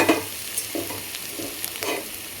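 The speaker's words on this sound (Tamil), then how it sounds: "தேங்காய் ஒரு முடி திருவிருக்கேன் அதை நெய்வியில் கொஞ்சம் போட்டு வறுத்துக்குவோம்" Grated coconut roasting in ghee in a kadai, a soft sizzle with a few brief stirring scrapes, close and fairly quiet, no talking.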